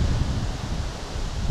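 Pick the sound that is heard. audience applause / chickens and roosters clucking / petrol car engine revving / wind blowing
wind blowing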